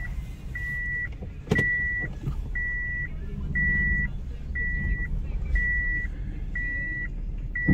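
Reversing sensor on a 2013 Suzuki Alto 1000cc SZ4 automatic sounds a steady series of evenly spaced electronic beeps, about eight in a row, clear over the low idle rumble of the small engine, with a single sharp knock early on.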